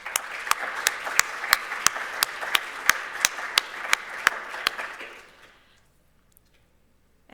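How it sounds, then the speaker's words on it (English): An audience at an academic computational biology conference applauds. A crowd's steady clapping carries several seconds with one loud, sharp nearby clapper standing out in a regular beat, then fades to near silence. "So let's give them a round of applause."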